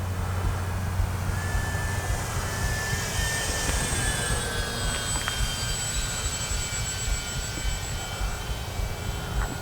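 A Durafly Ugly Stick V2 RC airplane in flight, its electric motor giving a steady buzzing whine with pitch shifting as it passes, heard alone over a continuous outdoor hiss.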